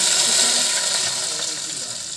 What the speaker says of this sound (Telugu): ఇప్పుడు కొంచెం లైట్గా హీట్ చేసిన ఆయిల్ కూడా వేసుకోవాలండి